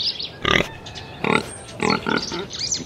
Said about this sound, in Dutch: Het is het varken.